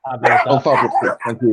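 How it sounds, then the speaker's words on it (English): A pet dog barks in the background of a group video chat, mostly buried under close, continuous conversation. "that's my dog's going"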